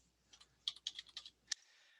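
Keys on a computer keyboard are tapped while entering a root user's password at a Fedora 26 login: a quick run of about eight crisp, close clicks with one final harder keystroke, alone in a quiet room.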